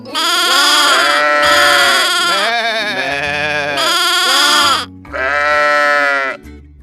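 Children's voices imitate a goat, bleating loudly in long wavering cries, four drawn-out bleats in quick succession with brief gaps, close and unaccompanied.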